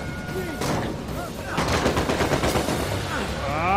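Rapid bursts of gunfire in the PS4 video game Uncharted 4: A Thief's End, sharp repeated shots in quick succession over synthetic game sounds.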